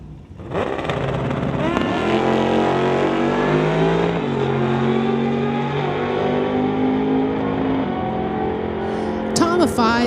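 Loud, close engine roar from a drag race between a 2017 GSXR motorcycle and a 1931 Ford running a 414 small block Chev, a sustained high-revving run that holds steady before trailing off, with no talk over it.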